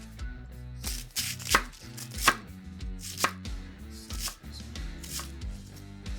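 A knife chops cabbage on a cutting board for sauerkraut, a steady series of crisp close thuds and crunches at an irregular rhythm, with no talking.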